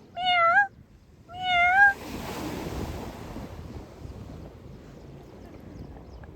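A cat gives two clear, close meows at a beach, followed by steady surf and wind noise buffeting the microphone.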